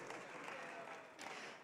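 Steady applause from a crowd fills the short stretch, with a brief swell of clapping near the end.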